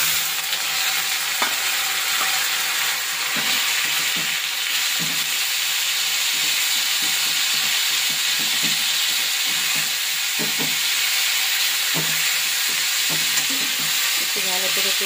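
Leafy greens fry with grated garlic in a hot pan, giving off a loud, constant sizzle, with occasional clicks and scrapes as they are stirred.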